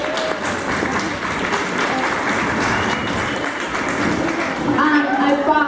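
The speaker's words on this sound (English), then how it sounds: "A great applause for them." An audience claps at a 2018 event, a steady, dense wash of applause that carries on through the whole stretch and swells slightly near the end.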